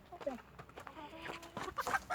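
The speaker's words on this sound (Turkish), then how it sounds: "Tek horoz." A rooster clucks and calls several times in short bursts, fairly close, with faint background noise between the calls.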